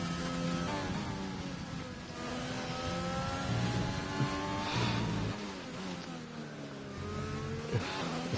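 An F1 race car engine on a fast lap at Brazil in a video game screams at high pitch, rising through the gears with quick drops at each shift, loud and steady from onboard.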